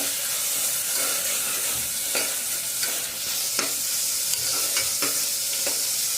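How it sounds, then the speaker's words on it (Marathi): Tomato being stirred into fried onions in a pan: a continuous close sizzle with repeated scraping strokes of the spoon at an uneven rhythm, no talking. "आता आपण ह्याच्यामध्ये ना टॉमॅटो टाकून घेऊया हे ना मिक्स करून घ्यायचं"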